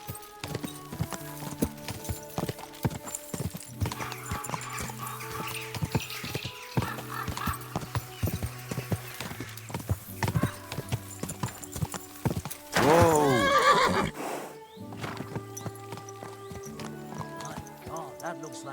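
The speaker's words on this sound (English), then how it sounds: "That's my horse." A horse's hooves clip-clop in a steady rhythm throughout, with a loud whinny partway through, mixed with other background sounds.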